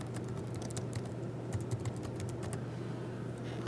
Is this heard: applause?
no